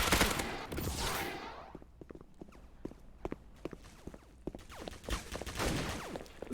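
Gunfire in a video game comes as a rapid, irregular run of sharp shots and clattering bursts. Within it, a loud whooshing blast rises near the start, and fainter game effects fill the background.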